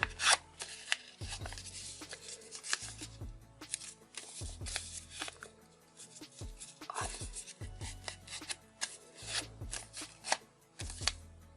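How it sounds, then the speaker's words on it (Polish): Close, quiet crinkling and creasing of paper as it is folded into an origami box, in irregular bursts of rustling with brief pauses between. "musimy sobie delikatnie zagiąć ten fragment, zaczynając od tego punktu"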